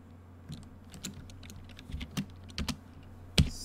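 Code is being typed on a computer keyboard, giving a series of crisp, uneven keystroke clicks with a sharper strike near the end, close and alone.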